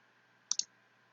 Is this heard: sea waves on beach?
no